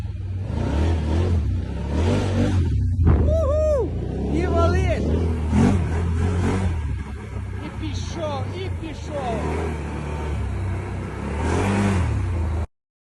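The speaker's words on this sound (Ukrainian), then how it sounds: "Квадроцикл то є сила. То є молодь бомба. О, тако їдеш, о, дав газу." A quad bike engine drones and revs steadily up close outdoors in the countryside, while someone talks over it throughout.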